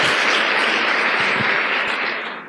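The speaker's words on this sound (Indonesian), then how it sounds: "Tepuk tangan untuk vision seminar." Audience applause at a business seminar, a dense, steady wash of clapping from a crowd that holds strong for about two seconds before tapering off slightly at the end, with no talk over it.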